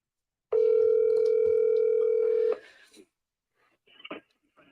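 A telephone rings back on an outgoing call: one steady tone lasts about two seconds, then cuts to near silence with faint rustling afterward.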